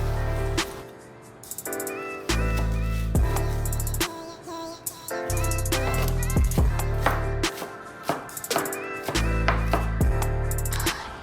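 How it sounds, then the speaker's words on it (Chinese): A knife chops half a green onion on a cutting board in quick, crisp repeated strikes, heard under steady background music. "切碎。"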